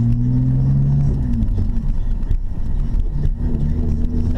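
A BMW 325Ci pulls away, its engine note rising and shifting in pitch through a couple of revs, loud and close, with road and cabin rumble underneath.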